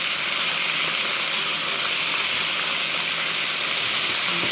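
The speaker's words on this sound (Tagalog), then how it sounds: "hintayin natin na maprito mabuti ang ating isda" Fish frying in a pan fills the air with a loud, steady, close hiss and sizzle that holds evenly throughout with no break.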